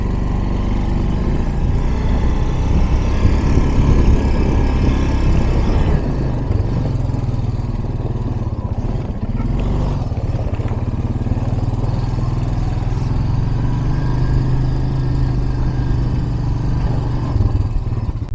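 A classic Ford backs out of holes in the ice on a snowy surface, its engine revving with a steady, rough mid-range drone that shifts in intensity as it strains and then settles.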